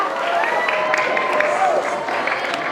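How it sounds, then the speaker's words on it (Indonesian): Audience applause at a school seminar on gadget use and anti-bullying, a dense steady clapping from a hall crowd lasting a few seconds, with a voice faintly over it. "tepuk tangan dulu untuk Mas Terry"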